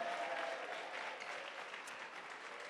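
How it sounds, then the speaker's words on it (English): A crowd applauds a student from a high school called to the front at a 2018 regional award ceremony in Eldoret, a brief burst of steady clapping heard faintly, as if from a distance. "Clap for him."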